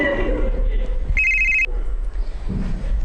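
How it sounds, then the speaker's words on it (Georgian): A mobile phone rings in a short, bright electronic burst lasting about half a second, loud and near, with talking around it. "ჩემი ტელეფონის ხმა იყო"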